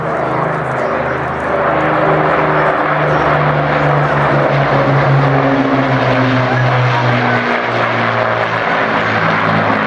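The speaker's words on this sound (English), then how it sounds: "we like to dedicate this fly past of the 2 Lancasters to his memory" Two Avro Lancaster bombers at an air show pass with a steady, loud propeller-engine drone carrying sustained low harmonic bands that rise and fall slightly throughout, with no talk heard.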